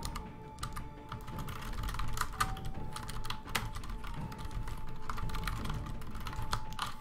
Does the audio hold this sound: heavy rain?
no